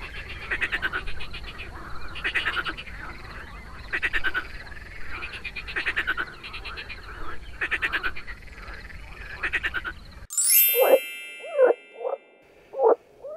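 Green frogs croaking in repeated bursts over a dense chorus for about ten seconds, then a few loud, close, isolated croaks stand out against quiet.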